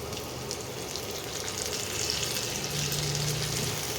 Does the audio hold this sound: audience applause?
no